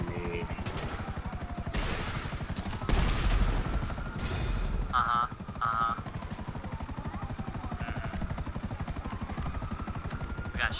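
A helicopter shot down in the GTA video game: a steady rotor drone with a burst of gunfire and a thudding impact around the middle, heard without talk.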